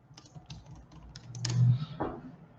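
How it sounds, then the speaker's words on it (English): Several light, quick keystrokes tapping out a short word on a computer keyboard, close and crisp with small gaps between the presses, followed by a soft thump. "I'm going to type hello myself."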